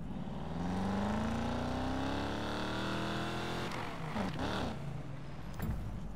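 A Chevrolet Camaro engine in the racing game Need for Speed Payback holds a steady, rising drone that climbs in pitch, then breaks into shifting revs and bursts near the end, loud and continuous with no talk.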